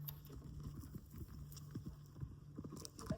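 A horse cantering on open ground during groundwork training, its hooves giving soft, faint, uneven thuds within steady outdoor background noise.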